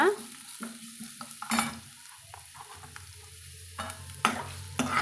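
Lentils and chopped vegetable peel being stirred and sautéed in a pan, with a faint sizzle beneath intermittent scraping and clinking strokes of a spoon, close and quiet.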